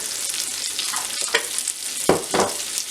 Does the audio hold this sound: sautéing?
yes